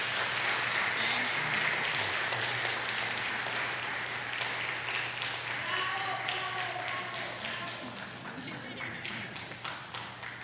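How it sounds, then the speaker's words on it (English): Church audience applauding a choir after an Easter cantata, a steady wash of many hands clapping that holds through the stretch and thins gradually toward the end, with a low hum underneath. "let's give them a big hand of applause"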